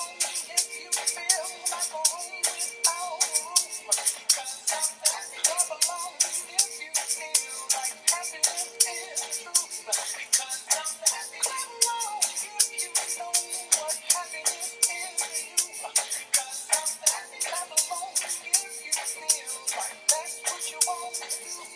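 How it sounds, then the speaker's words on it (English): Egg shakers shaken to a steady beat, a crisp rhythmic rattle of even, regular pulses repeating close and clear over music throughout. "let's pick up our egg shakers."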